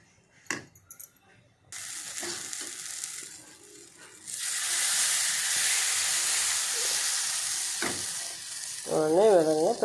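Moong dal pesarattu batter hits hot oil in a pan and breaks into a loud, steady sizzle that keeps going. Brief clatter comes before it, and a short voice is heard near the end.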